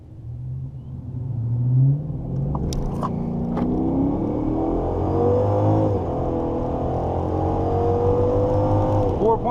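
A supercharged all-wheel-drive Dodge Charger launches down a quarter-mile drag strip on a slick lane at Bandimere, over a mile high. Its engine rumbles and revs up steadily and loudly, with no talk.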